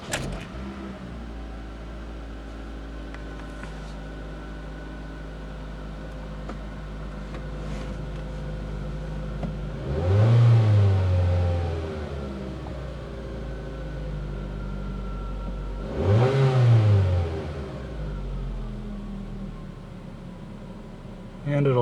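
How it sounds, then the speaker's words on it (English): A 2011 Ford Focus engine idles with a low, quiet, steady hum, broken by two short, louder swelling surges partway through. "Go ahead and turn it on and show you guys how quiet it is."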